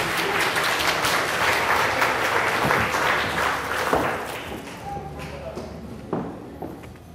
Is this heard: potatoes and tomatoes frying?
no